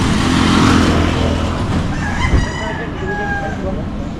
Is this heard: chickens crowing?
yes